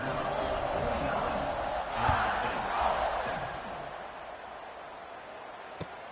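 A home crowd in a football video game roars in a steady, dense din that swells briefly partway through, then eases slightly.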